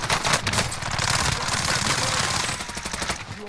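Rapid automatic gunfire in Call of Duty Warzone rattles loudly up close in dense bursts, with a steadier sustained stretch in the middle and sharp repeated shots near the end.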